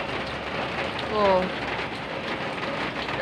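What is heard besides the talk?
rain falling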